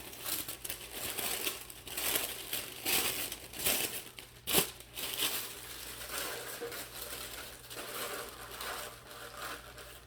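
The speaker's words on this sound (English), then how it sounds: "I'm going to cover it in construction in paper, regular plain paper" Plain construction paper crinkles and rustles as it is wrapped around an object, in close, uneven bursts of crumpling and handling noise with a sharper crackle near the middle.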